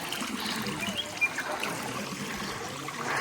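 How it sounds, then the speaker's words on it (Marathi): Natural spring water trickling from rock into a small outlet on a scenic Kerala hillside, a steady close splashing stream that runs continuously without break. "तर दगडातून येत आहे ते पाणी."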